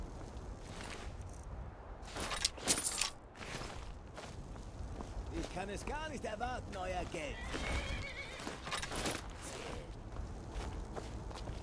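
Horse in the video game Skyrim whinnying loudly in a long quivering neigh, with clip-clopping hooves and scattered footsteps around it, heard faintly.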